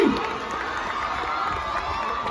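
At a crowded film-promotion event in Balurghat during Durga Puja, a large audience cheers and claps in a dense, sustained roar that stays loud throughout.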